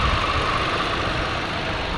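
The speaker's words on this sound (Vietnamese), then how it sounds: "Đó, động cơ đang nổ nè, bên trong em mở máy lạnh." A 2019 Hyundai i10 sedan with a 1.2-litre engine idling while the air conditioning runs, giving a steady, even hum with a faint continuous whir throughout and no talk.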